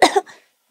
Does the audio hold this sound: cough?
yes